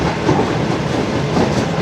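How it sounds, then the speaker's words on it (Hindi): Shalimar Express passenger train slowing on its approach to Mehrabpur railway station, a steady close rumble of wheels and carriages with rhythmic clickety-clack, loud and continuous with no voices. "397 किलोमीटर कराची पोर्ट से मेहराबपुर रेलवे स्टेशन पहुंच चुके हैं जी, और स्पीड बिल्कुल ही गिरा दी है।"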